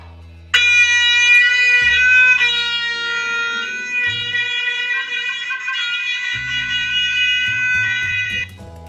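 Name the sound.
trumpet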